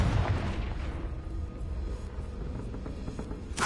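A Confringo blasting spell explodes in Hogwarts Legacy, a loud, rumbling boom that fills the whole stretch with dense low-end roar and a sharp burst at the close.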